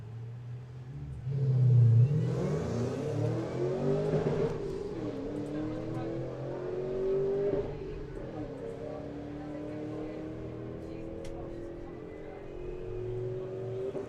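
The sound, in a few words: drag racing run of a Mini and the Bad Penny Mustang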